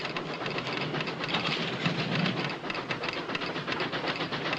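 A train pulls into a station in a 1948 drama set, a steady broadband rumble with rhythmic rail clatter and hiss, loud and continuous throughout with no talk.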